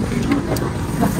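Street traffic rumbles steadily past a busy Jakarta market, with car engines droning continuously close by and nothing standing out above the constant low road noise.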